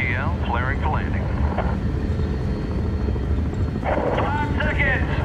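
A helicopter sets down for a landing in the video game Medal of Honor 2010, its rotor roar steady and loud throughout while radio voices talk over it.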